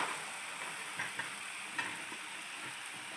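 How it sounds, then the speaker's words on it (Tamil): Garlic and green chilies sauté in oil in a huge biryani pot for a 600 kg mutton biryani in Kasaragod, Kerala. A steady close hiss runs throughout, broken by a few soft scraping knocks. "போட்டுட்டு நல்லா வதக்கணும் பூண்டோட பச்சை வாசனை கொஞ்சம் போகணும்"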